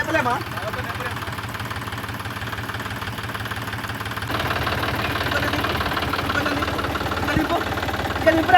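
A tractor engine runs steadily throughout with a low, knocking idle rhythm, growing slightly louder partway through, while people talk over it.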